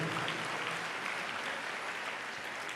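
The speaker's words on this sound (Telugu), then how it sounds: "చప్పట్లు కొడదాం అందరూ గట్టిగా." A church congregation clapping together loudly during a worship service, a sustained dense wash of applause throughout.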